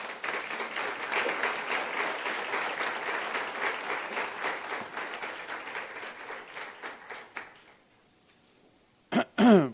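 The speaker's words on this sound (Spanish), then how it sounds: "¿Cuántos pueden darle un aplauso fuerte al Señor?" A church congregation claps loudly and steadily in a sustained burst of applause that fades out near the end, followed by a short pause and a brief final noise.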